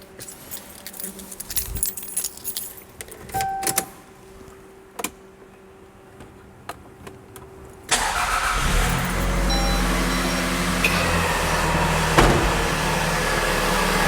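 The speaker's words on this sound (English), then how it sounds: "We're just going to start the car" A Toyota RAV4's engine cranks and catches about eight seconds in, then settles into a steady, loud idle, after a quieter stretch of interior clicks and key jingling.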